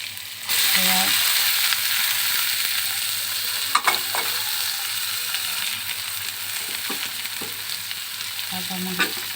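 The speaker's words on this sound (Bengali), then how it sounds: "সব একসাথে ভেজে নেব" Garlic, onion and green chili fry in hot oil in a pan, giving a steady bright sizzle with occasional scrapes and clinks of a spatula stirring.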